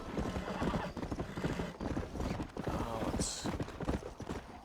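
A horse in the Red Dead Redemption video game gallops with fast, rhythmic hoof clops on hard ground, close and loud, broken by a sharp high neigh midway, with no talk over it.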